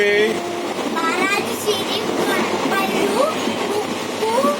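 Steady rumble and rattle of a moving passenger train carriage bound for Shirdi, Maharashtra, with faint squeals, under a chatter of voices throughout.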